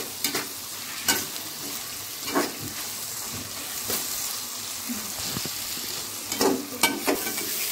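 Brinjal and other vegetables for vangibath sizzle softly in a pan while a utensil scrapes and stirs them in irregular bursts, close and fairly quiet, with no talking.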